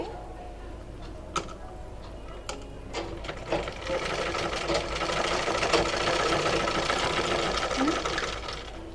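An electric sewing machine stitches a child's long gown, its steady motor whir starting and stopping in short bursts, then running continuously, close and fairly loud, with a few fabric handling knocks.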